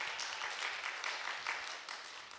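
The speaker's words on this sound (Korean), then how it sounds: "박수 한번 합시다." A Korean church congregation claps during a Sunday worship service, a brief, even burst of hand claps at moderate level without speech.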